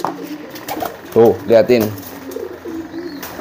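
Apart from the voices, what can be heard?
pigeons cooing during courtship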